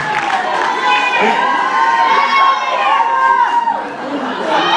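Concert audience at the Billingham Forum during a summer show, shouting and calling out song requests: a loud, dense crowd of overlapping voices and cheers filling the hall, steady throughout.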